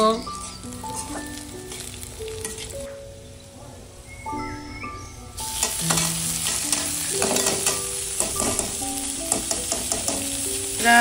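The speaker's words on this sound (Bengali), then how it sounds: "এখানে আমার ভর্তার হাবিজাবি গুলো খুব সুন্দর ভাজা ভাজা হইয়া যাইতেছে" Chopped ingredients for a Bangladeshi mashed bhorta dish fry in a pan, with a steady close sizzle and scraping stirring strokes that grow busier and louder partway through.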